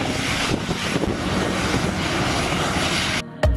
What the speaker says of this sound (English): I was able to enjoy this jet car that CSCS got to come out to do a 5 second quarter mile pass down TMP's drag strip